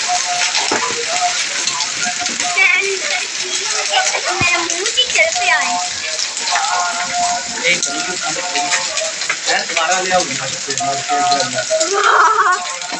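Hail and heavy rain pour down on Jogewala village near Makhu in Punjab, a dense, steady hiss of drops and splatter filling the whole stretch while voices talk over it.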